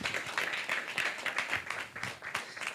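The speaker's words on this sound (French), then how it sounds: "Voilà qu'on peut applaudir." An indoor audience at an award ceremony claps in a dense, continuous patter that rises and dips slightly, loud and steady with no voices over it.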